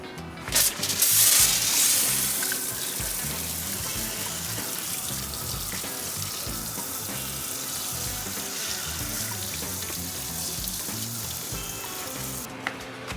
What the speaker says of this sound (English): Alright, so now we're gonna rinse this off.